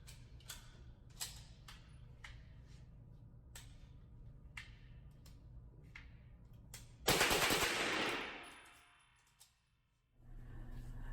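Rapid gunfire cracks out at an outdoor shooting range with a CROM USA rifle, a string of sharp shots spaced through the first seconds, then a loud dense burst that tapers off before a brief lull and a fresh rumble.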